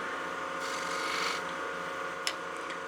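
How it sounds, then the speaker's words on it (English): A 1/4-inch bowl gouge takes a light final cleanup cut on a wooden bowl spinning on a wood lathe, giving a steady close rasping hiss with a brief sharp scrape near the end and no speech. "I do want to go to my smaller gouge and just get a nice final cleanup cut"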